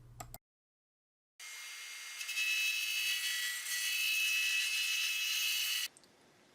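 A six-sided wooden block with inserts glued into each face spins on a woodturning lathe under a cutting tool. A steady, bright hissing scrape runs for several seconds after a brief silence, then stops abruptly.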